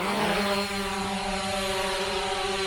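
A Hubsan Zino Pro quadcopter drone takes off from a landing apron with a loud, steady, high-pitched whine from its motors and propellers, close by and continuous throughout, no talking.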